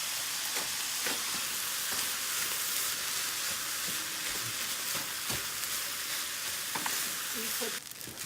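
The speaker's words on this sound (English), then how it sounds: "give that a good stir" Leftover white rice with soy sauce, stir-fried in a pan for chicken fried rice, gives a loud, steady sizzle close by, broken by repeated scraping stirs and a rougher clatter near the end.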